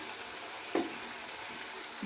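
Ground cumin and coriander fry in a pan for potato curry, a soft steady sizzle with one brief clatter of stirring near the middle, close and unaccompanied by talk.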